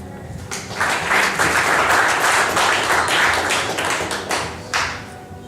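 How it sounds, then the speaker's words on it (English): Applause from the audience at a Tulsa startup pitch event, dense clapping from many hands rising quickly and sustained for several seconds before tapering off. "let's give a round of applause for SayAh"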